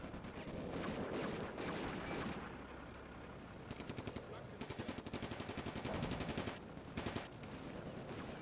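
Machine gun fire in Combat Mission Afrika Korps, rapid rattling bursts of rhythmic shots with short gaps, loud over steady rumbling battle noise.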